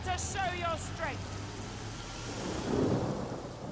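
Steady rain hiss with a low rumble of thunder from a spell in the video game Divinity: Original Sin, faint and continuous, with a brief voice at the start.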